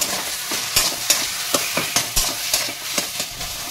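Hilsa fish head and black taro greens being stirred in a hot pan, a steady sizzle broken by a regular series of sharp spatula scrapes and knocks, close and clear with no talk.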